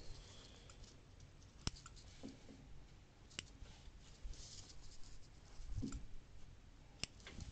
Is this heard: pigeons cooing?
no